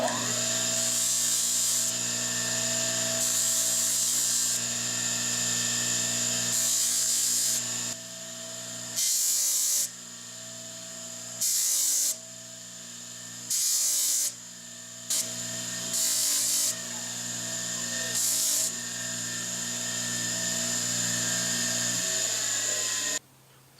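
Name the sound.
sanding scale off a steel knife made from a file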